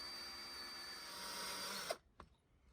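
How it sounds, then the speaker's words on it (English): A power drill with a 5mm bit drills out a sheared bolt on a Mercedes 107 SL brake dust cover, a steady high-pitched whine, then cuts off abruptly, followed by a couple of brief clicks and near silence. "Finally got that out with a 5mm drill bit"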